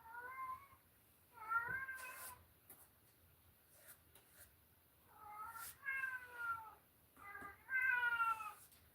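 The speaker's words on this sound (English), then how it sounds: "I hear a cat again." A cat meows repeatedly, several drawn-out, wavering cries in separate bursts with short pauses between them, fairly faint and otherwise quiet.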